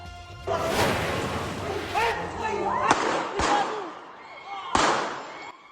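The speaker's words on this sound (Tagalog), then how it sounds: "Tatlong putok na baril ang narinig sa cellphone video" Three sharp gunshots crack out a second or so apart, recorded on a cellphone, amid agitated voices and background commotion.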